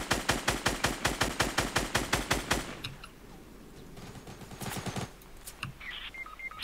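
Rapid automatic weapon fire in Fortnite: an evenly spaced burst of about fifteen loud shots, then quieter scattered game sounds and faint effects.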